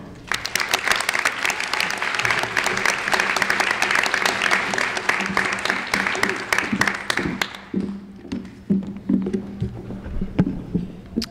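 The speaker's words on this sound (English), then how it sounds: "Let's have one more round of applause for the graduates" Graduates and guests at a high school graduation ceremony clap in sustained, lively applause for about seven seconds, then it thins out into scattered claps and small room noises.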